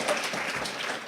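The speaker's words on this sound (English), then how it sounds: "Give yourselves a round of applause." Short burst of audience applause at a poetry event, a dense, fairly quiet wash of clapping that holds steady for about a second.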